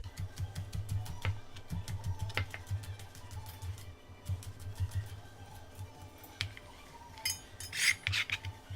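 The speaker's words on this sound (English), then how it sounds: "I'm also going to cut in some green onion just for sweetness." A knife chops green onion on a cutting board in a home kitchen, a steady run of quick, crisp taps that pauses briefly and resumes, with a few louder clicks near the end.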